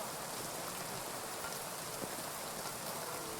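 Steady rain falls in the medieval game world of Kingdom Come Deliverance 2, an even, dense hiss of drops on surfaces throughout, fairly quiet and with no voices.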